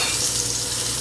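Meat frying skin side down in a pan, its fat rendering out in a steady, close, loud sizzle that holds unbroken for about a second with no voices.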